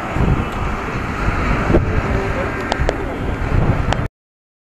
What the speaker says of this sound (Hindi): हवा बड़ी तेज़ चल रही है